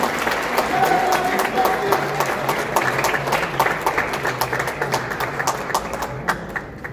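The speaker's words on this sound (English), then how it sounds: "give all of our honorees a round of applause for the work that they've done" Audience at a Kosovo Independence Day celebration in New York City applauding honorees, dense sustained clapping from a large crowd with scattered voices, tapering off at the end.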